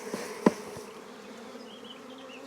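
Honey bees buzz around an open hive during a colony inspection, a steady close hum with a brief knock near the start and faint higher whines drifting through.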